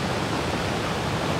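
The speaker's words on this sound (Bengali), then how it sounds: "বৃষ্টি হচ্ছে তো তাই উপর থেকে একটা ঢল নিচের দিকে নেমে আসতেছে।" Rain-fed torrent of water rushing downhill toward the sea at Tanah Lot, Bali, a steady, dense roar of flowing water with no pauses, loud and close throughout, with no voices.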